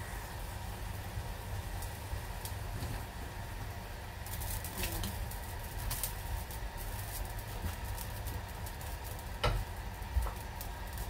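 A casserole pot of Korean-style dumplings with instant noodles bubbles on the stove, a steady low simmering hiss that runs throughout, with a few faint clicks and taps over it.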